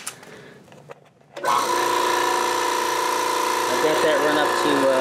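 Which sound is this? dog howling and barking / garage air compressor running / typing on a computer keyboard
garage air compressor running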